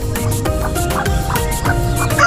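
Backyard chickens on a small farm clucking steadily at close range, a dense continuous layer of fowl calls with a low hum beneath.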